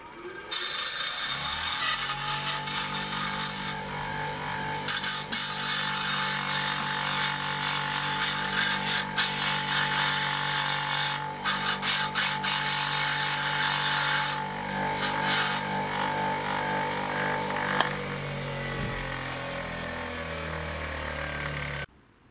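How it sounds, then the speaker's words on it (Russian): A bench grinder runs steadily, grinding down the end of a self-tapping screw, with a continuous loud abrasive whine and hum holding for about twenty seconds before trailing off. "Запускаем наш наждак и стачиваем примерно часть самореза."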